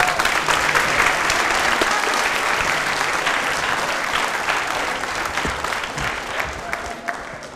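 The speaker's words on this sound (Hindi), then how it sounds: "ताली एक बार जोरदार बजा दीजिए" Loud, sustained applause from a studio audience at a quiz programme marking Ambedkar Jayanti, a dense, even wash of many clapping hands that stays strong and eases slightly near the end.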